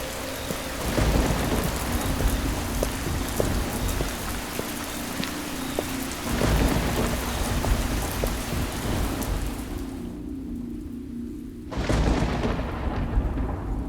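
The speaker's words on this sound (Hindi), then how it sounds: "बाहर इतनी तेज बारिश भी हो रही है।" Heavy rain pours steadily with rolling thunder booming through it, a loud continuous downpour that briefly drops away near the end before surging back in.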